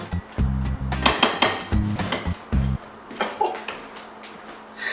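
A utensil scrapes and clinks around a mixing bowl of raspberry cheesecake batter, with several close, rhythmic knocks and scrapes followed by softer stirring sounds.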